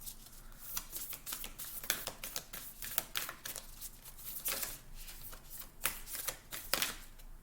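A deck of tarot-style reading cards shuffled and drawn by hand, with rapid crisp riffling bursts and flicks repeating steadily at close range, no talk.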